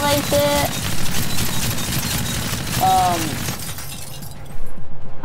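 Glass shatters amid gunfire in Call of Duty: Infinite Warfare, with crackling bursts of breaking and shots over a busy game soundscape, in-game voices cutting in, and a few heavy thumps near the end.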